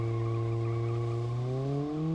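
A car in the BeamNG.drive video game spins its tires to warm them. A steady, loud squealing tone rises slightly in pitch toward the end, continuous and alone.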